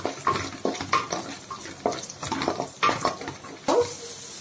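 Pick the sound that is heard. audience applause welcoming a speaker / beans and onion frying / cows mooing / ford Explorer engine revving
beans and onion frying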